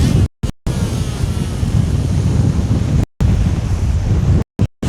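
Strong wind batters the microphone on a winter shoreline at Gilkicker Fort on the south coast, a loud, constant roaring buffet over crashing surf, broken by a few sudden dropouts.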